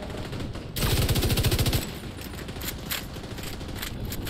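A light machine gun fires in The Division 2 as a dense rapid burst of about a second, followed by quieter scattered gunfire and game noise, with no talk.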